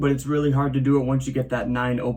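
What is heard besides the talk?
No distinct noise like a dog, phone or traffic.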